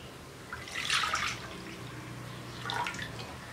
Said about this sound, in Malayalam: അടിച്ചെടുത്ത മാവ് ഒരു ബൗളിലേക്ക് ഒഴിച്ചു കൊടുക്കാം